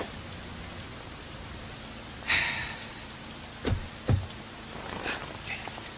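Heavy Bombay rain hisses as a steady wash, broken by a few louder thumps and splashes, with no one talking over it.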